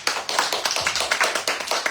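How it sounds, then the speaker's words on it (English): A small audience at a talk gives a short round of applause, dense rapid hand claps close by with no voices over them. "Everybody give a round of applause."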